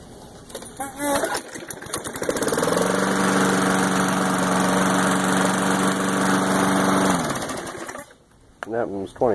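A Weedeater push lawn mower's small engine runs steadily, loud and close for several seconds, with brief mechanical clatter before and after.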